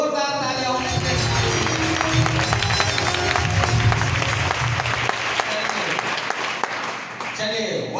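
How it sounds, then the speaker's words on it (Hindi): Loud, dense applause from a large crowd, steady and sustained for several seconds before tapering off near the end. "चलिए एक बार फिर से जोरदार तालियां"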